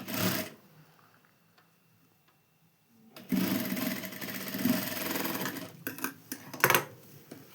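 Sewing machine stitching seat cloth for a devotional seat cushion, a loud steady mechanical whir running several seconds after a quiet start, with a short burst of whirring at the beginning and a few clicks near the end.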